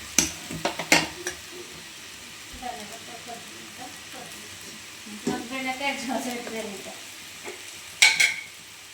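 Okra and meal maker soy chunks being stirred and fried together in a pan with salt and chilli, a soft scraping and sizzle that comes and goes, with someone speaking over it at times.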